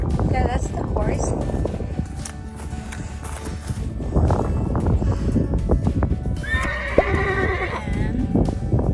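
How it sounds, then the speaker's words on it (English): A horse whinnies on a hillside trail near Swallows Nest Rock, a rising, wavering call late in the clip, heard over steady wind, footsteps and ongoing conversation. "Yeah, that's the horse."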